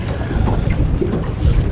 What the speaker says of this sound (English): that wind's really starting to kick up